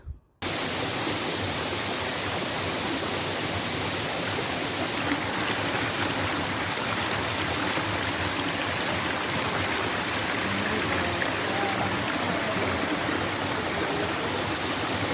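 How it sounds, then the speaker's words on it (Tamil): Mayilur waterfall in the Pachamalai hills pours in a loud, unbroken roar of falling water that holds steady throughout. "இந்த மயிலூர் அருவியை நீங்கள் என்ஜாய் பண்ணணும்."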